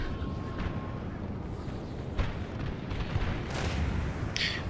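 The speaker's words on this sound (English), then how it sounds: "We're going to have to use artillery on them." Artillery fire in Napoleon Total War: dull cannon booms and scattered cracks rise out of a dense, constant battle roar, with several thumps spread through the stretch and no single shot standing clearly apart.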